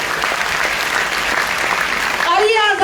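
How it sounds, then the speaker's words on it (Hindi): Loud, dense audience applause at a motivational speech, continuous clapping from a large crowd sustained throughout, with a speaker's amplified voice cutting in over it near the end. "एक जोरदार ताली होना चाहिए सभी लोग के लिए।"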